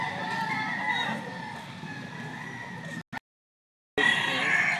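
Roosters and chickens at a busy chicken market, a dense layer of crowing and clucking carried over crowd murmur, cut off briefly by a silent gap before resuming loudly.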